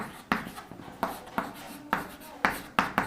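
Chalk or marker tapping and scratching across a board during a Class 12 maths lesson on matrices: a quick, irregular series of sharp strokes and taps, close and fairly loud, with no speech over them.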